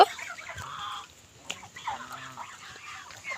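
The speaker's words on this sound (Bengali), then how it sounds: "এগুলো সব হাঁস আমার" Ducks, the kind known locally as king ducks, call faintly nearby in short, scattered quacks against a quiet background.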